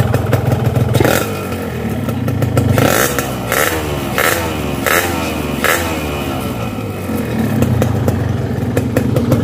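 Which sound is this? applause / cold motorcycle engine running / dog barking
cold motorcycle engine running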